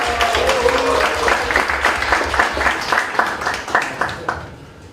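A lecture audience claps again to welcome the speaker, a fuller but still fairly sparse patter of hand claps with a faint voice at the start, thinning out and fading toward the end.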